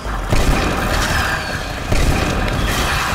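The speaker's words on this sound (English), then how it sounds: "one of these on hand. The fireworks launcher. Not only is it a pretty decently damaging weapon" The fireworks launcher weapon in the video game Let It Die fires two loud, booming blasts, each followed by a dense, crackling burst of noise.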